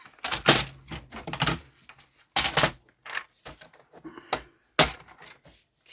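Scissors chopping through a book page to make an envelope, a series of sharp crisp cuts in uneven clusters, close and fairly loud with quiet gaps between.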